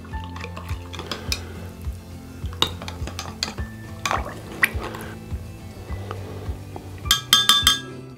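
A spoon stirs yeast, sugar and water in a bowl, clinking and scraping against the sides in a steady rhythm, close and moderately loud, with a quick burst of rapid clinks near the end.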